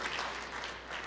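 Church congregation clapping, a quiet, distant, steady patter of applause lasting about a second.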